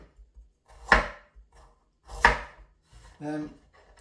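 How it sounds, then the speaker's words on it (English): A knife strikes a chopping board twice with crisp, separated thuds while ingredients are being chopped for a minced beef and onion cottage pie, followed by a short clatter, in a quiet kitchen. "I'm going to chop these up very finely"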